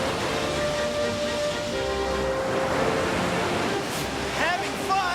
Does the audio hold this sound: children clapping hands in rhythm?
no